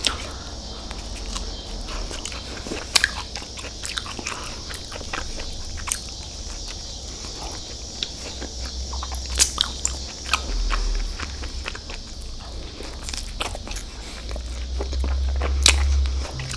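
Close-up eating of Taco Bell rolled chicken tacos, with crisp crunchy bites and wet chewing recurring throughout, alongside small scrapes and rustles and no talking.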